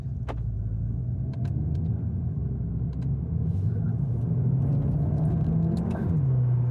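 A 2025 Skoda Octavia RS engine rumbles steadily up close, swelling a little as the car pulls away near the end.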